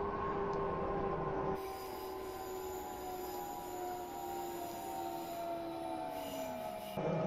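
An S-Bahn train in a Train Simulator Leipzig scenario brakes to a stop, its wheels giving a loud, sustained metallic squeal of steady tones that dips in pitch near the end before cutting off abruptly.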